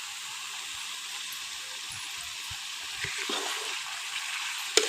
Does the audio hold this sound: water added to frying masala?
yes